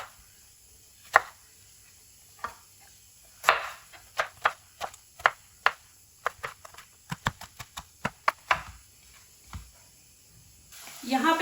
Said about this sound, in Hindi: अब यहाँ पे एक टमाटर लूँगी, इसके भी हम पीस कर लेंगे इस तरह